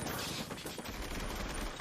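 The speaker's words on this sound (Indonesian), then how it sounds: "Lalu mereka menembaki mobil Pak War" A film scene of men firing at a car: a continuous, dense volley of gunshots rattles on for the whole stretch, moderately loud, with no dialogue.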